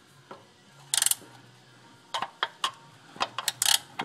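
Ratchet wrench clicking as a bolt is tightened on a 2010 Toyota Tacoma 2.7L during a tire rotation, heard as several short, sharp bursts of ratcheting with quiet gaps between them, close by.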